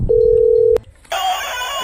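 A telephone rings once with a loud, steady electronic tone lasting under a second, followed by a brief pause and then a burst of noisy, hissing sound.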